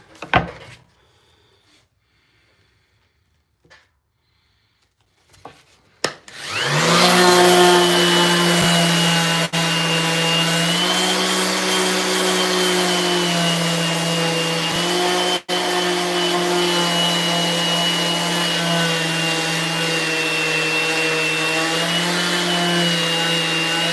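Sanding a handcrafted wooden skateboard deck with fresh 80 grit sandpaper: a few quiet knocks and handling sounds, then a power sander starts and holds a loud, steady whining drone to the end.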